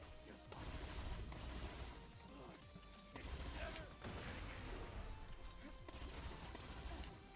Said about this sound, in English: it is just a burst fire